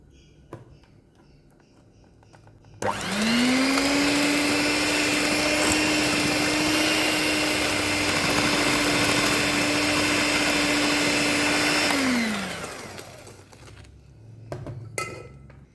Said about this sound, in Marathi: अशें करून ती आमी सगळी थोडी थोडी करून बीट करून घेया